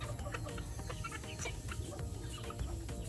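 Chickens clucking close by, a busy overlapping stream of short clucks and calls with farmyard background noise.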